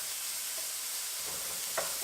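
Bacon frying in a pan gives a constant, even hiss and crackle, with faint small pops near the end.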